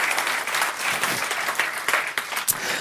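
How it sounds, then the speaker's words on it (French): Brief, lively audience applause at a French-language Java technical talk, dense clapping with slight surges, heard close and moderately loud for a few seconds. "On peut applaudir."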